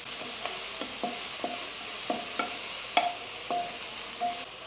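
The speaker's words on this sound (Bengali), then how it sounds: "এখন লোকাল মাশরুমটা একটু ভালো করে সতে করে নিতে হবে" Local mushrooms sauté in a pan for pasta, a soft steady sizzle punctuated by regular scraping stirs of a spoon about every half second.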